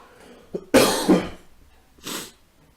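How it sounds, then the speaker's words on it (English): A man with a cold coughs during a Magic: The Gathering Standard match, a small throat sound followed by a loud, harsh double cough and then one more shorter cough, close up and with no talk. "Again, apologies for the coughing,"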